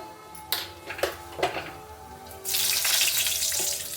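Mustard seeds hit hot oil for a sabudana upma tempering: a few sharp ticks and pops, then a sudden steady loud sizzle that fills the rest, close and with no talk.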